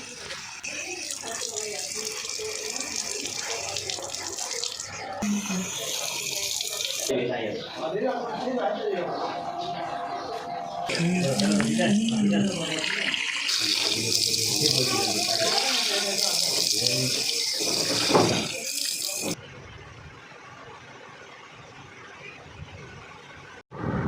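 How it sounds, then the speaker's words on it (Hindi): Tap water runs into a sink as someone washes their face, a loud, continuous splashing stream with changing gushes that stops near the end, while a voice murmurs faintly underneath. "तो अभी मैं मुंह धोने लगी थी।"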